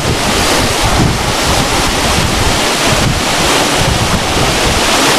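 The Changey Waterfall in North Bengal pours from close range, a loud, unbroken roar of rushing water and spray that covers everything with no voices heard.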